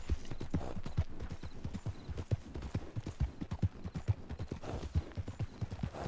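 Rapid hoofbeats of galloping horses in a roleplay video game, a continuous, driving clip-clop rhythm from several mounts moving together, loud and near, with no voices over it.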